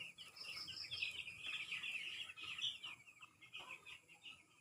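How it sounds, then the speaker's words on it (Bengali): Five-day-old broiler chicks in a brooder give a constant, high-pitched chorus of overlapping cheeps, soft and close, with no talking. "এখানে আমার মুরগির বাচ্চা রয়েছে।"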